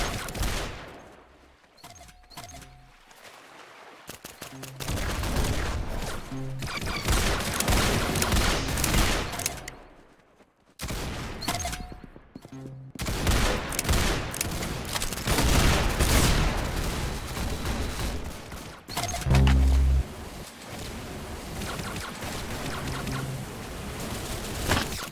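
Gunfire in a shooter video game, loud clustered volleys and sharp cracking shots in several dense bursts separated by short quiet gaps.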